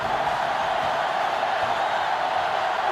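Steady, dense roar of a sellout stadium crowd in the video game NCAA Football 2005, a constant wash of cheering and noise with no breaks, loud and unbroken throughout.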